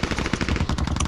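Rapid automatic gunfire in the video game Ring of Elysium rattles continuously and loudly, a dense burst of shots with no pauses and no talking.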